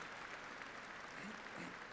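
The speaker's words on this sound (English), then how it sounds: "How about a round of applause for all of those folks?" Steady applause from a large audience at a university commencement ceremony, a dense even wash of clapping over about two seconds with no voices on top.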